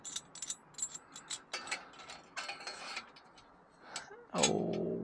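Metal clamps being fitted onto a forklift muffler, heard as a run of sharp ratcheting clicks and short metallic rasps in quick bursts, close by, ending in a louder sustained scrape.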